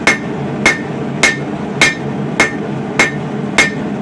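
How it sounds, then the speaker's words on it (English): Seven heavy forging hammer blows on hot coil-spring steel ring out at an even, unhurried pace, each a sharp metallic strike with a brief ringing tail. "I'm so used to swinging this hammer at this point."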